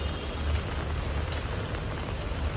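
Steady rain after a cyclone, a dense, even hiss of drops pattering on surfaces, close and continuous with no voices.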